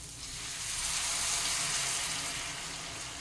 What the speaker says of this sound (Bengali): এই জল গরমটা যতটা আমার প্রয়োজন আমি এর মধ্যে ঢেলে দিচ্ছি